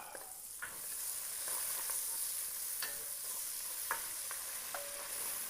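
Onions sizzle and fry in a pan while being stirred for Japanese katsu curry, a steady crackling hiss with scattered sharp spatters and scrapes of stirring, close and continuous with no talking.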